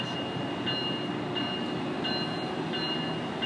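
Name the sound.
Tri-Rail passenger train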